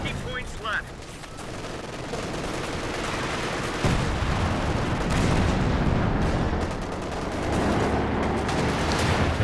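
Anti-tank gun fire in a Company of Heroes 2 match with Panzer IVs, dense overlapping gunfire and booms over a continuous roar of battle, loud throughout.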